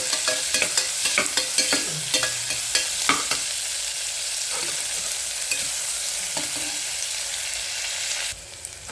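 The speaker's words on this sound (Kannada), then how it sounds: "ಈಗೊಂದು ಸ್ವಲ್ಪ ಉರಿ ಜೋರು ಮಾಡಿಕೊಂಡು ಸ್ವಲ್ಪ ಎಲ್ಲ ಹೀಗೆ ಕೆಂಪುಗೆ ಬಾಡಿಸ್ಕೋಬೇಕು" Onions sizzle steadily in a pan over a high flame while a spoon scrapes and stirs them in a quick, irregular rhythm, close and fairly loud, and no one talks.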